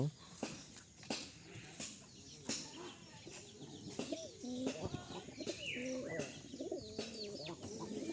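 Pigeons coo softly nearby, their low throaty calls mixed with scattered chirps, clicks and rustling in a quiet space.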